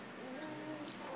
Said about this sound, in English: Are you blowing bubbles, Robby?